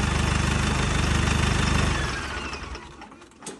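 A turbocharged tractor engine runs loud and close with a steady rhythmic chug, then the pulsing fades and the sound turns rougher and quieter toward the end.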